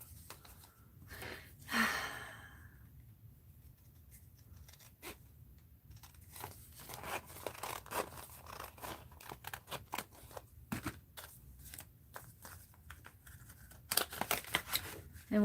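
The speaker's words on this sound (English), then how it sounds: "cut this in half" Scissors snip through thick collaged paper in a mixed-media art journal, cutting it in half. The snips come as a run of crisp crunching cuts, with quiet speech and breathing heard between them.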